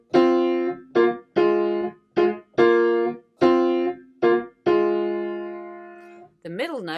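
A piano plays the top note line of a tune with the thumb alone, about eight close, clear struck notes, some clipped short and others left ringing, followed by a brief voice at the end.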